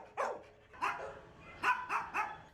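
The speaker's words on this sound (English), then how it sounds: "Dogs barking not just for treats today" Several dogs bark in short bursts, around five sharp barks spread over a couple of seconds, moderately close, with a faint background hum and no talking.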